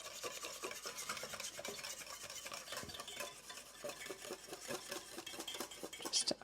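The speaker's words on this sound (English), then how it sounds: "I'm going to whisk it while I" A whisk beats Meyer lemon tart custard in a pot with quick, even strokes, a soft rhythmic scraping and clinking against the metal, fairly quiet and with no talking.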